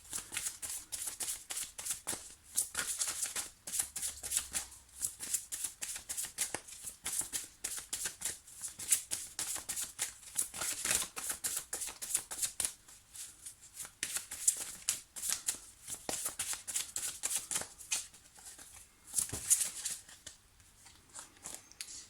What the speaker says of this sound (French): Alors Luna, je vais me concentrer sur votre demande, sur votre question, pendant que je prépare votre tirage